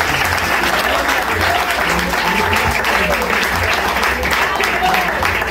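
A church congregation at an evangelical service in the Dominican Republic applauds loudly and continuously, a thick, steady wash of clapping with crowd voices mixed in.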